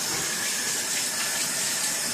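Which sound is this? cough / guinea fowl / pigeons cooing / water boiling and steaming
water boiling and steaming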